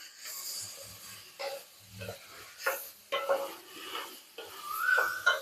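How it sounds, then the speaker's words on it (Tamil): Eggplant chutney ingredients sautéing in a pan, with tamarind just added: a soft sizzle and hiss runs under repeated scraping stirs of a spoon against the pan, with a few light utensil knocks. "இப்போ எல்லாம் நல்லா வதங்கட்டும்."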